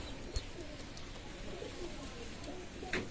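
Pakistani Teddy 128 pigeons, a show breed from a Bangladeshi loft, coo softly at close range in a steady low murmur, with a couple of brief louder calls standing out.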